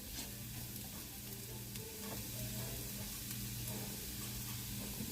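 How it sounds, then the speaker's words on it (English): Onions sizzle and fry steadily in a pan for Southern smothered potatoes, a constant close hiss with faint stirring scrapes and no talking. "And now I'm going to add the onions"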